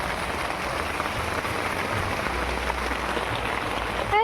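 Heavy rain pours down steadily on a farm while cattle are led in under a sunshower, a dense, continuous hiss of drops on surfaces that stays even and close throughout.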